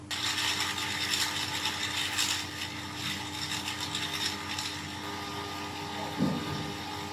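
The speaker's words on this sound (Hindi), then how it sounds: "आइस क्यूब्स 4 से 5 अदद वो डाल दी हैं और 2 मिनट के लिए मज़ीद ब्लेंड करेंगे।" A blender whirs continuously through a strawberry milkshake with four or five ice cubes, a steady loud motor drone with rattling, grinding texture and no talking.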